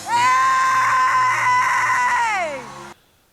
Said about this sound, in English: a primordial scream